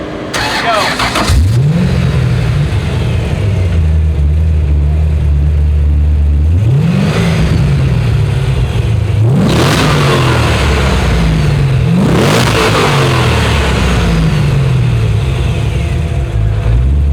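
A Porsche Boxster S fitted with an LS7 V8 engine revs loudly and close, with a deep idle punctuated by three sharp throttle blips that rise and fall back, over a constant rumbling drone.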